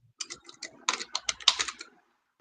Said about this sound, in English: Hey, Trippy, he's typing like a mad scientist, Jalen.